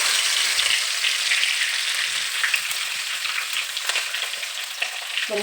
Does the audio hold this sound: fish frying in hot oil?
yes